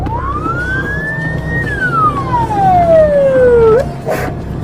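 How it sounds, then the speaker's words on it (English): A loud police siren wails, sweeping up then gliding down in a long tone before cutting off abruptly, over road and engine noise. "tearing through heavy traffic with police right behind him"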